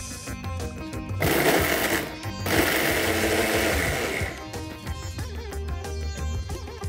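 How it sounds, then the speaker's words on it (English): A countertop grinder blends roasted wheat batis for Rajasthani dal bati churma into a coarse powder, a loud steady motor whir running for a few seconds between quieter stretches, with no talking. "I'm taking these roasted batis and grinding these into a coarse powder."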